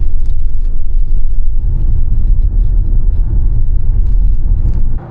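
Inside a Tesla running FSD v14.3.1, slowing to a crawl over rough railroad tracks, a steady low rumble and tire whir fills the cabin with faint bumps before it cuts off at the end.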